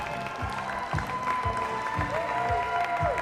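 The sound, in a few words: applause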